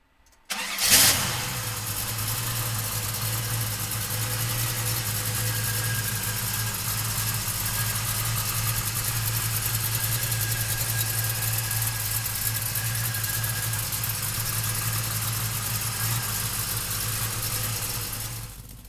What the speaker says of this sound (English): So come on up and we'll fire this 454 up.